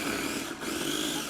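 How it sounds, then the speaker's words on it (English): A blender whirs steadily and loudly at close range, blending Calabrian chili butter in one continuous motor drone with no voices. "then we're gonna blend it together and you'll start to see it turn color"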